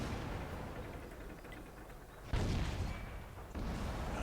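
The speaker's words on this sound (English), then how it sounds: "And somebody's shooting at me" Tank cannon fire in World of Tanks lands as a deep, heavy boom over a constant rumbling battle backdrop, followed by a second, smaller thud about a second later.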